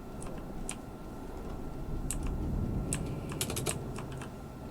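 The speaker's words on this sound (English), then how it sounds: "Again, I apologise for my noisy mechanical keyboard." Mechanical keyboard keys clatter in scattered bursts of clicks, faint and close, over a steady low hum during a truck-driving game session.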